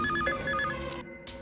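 Telephone ringing in an Indian film scene, with repeated bright, electronic ringtone bursts that sound close and clear, and no voices over them.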